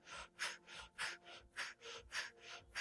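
Deep, rhythmic breathing during a yoga kriya in a calm flow session: about six full inhale-exhale cycles, evenly paced and close to the mic, soft and airy with no talking.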